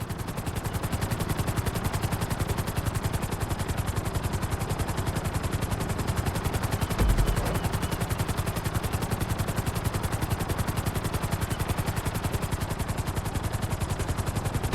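Steady rapid rotor chop of a helicopter in GTA V flight school, flown continuously at an even, close, loud level with a brief low thump partway through.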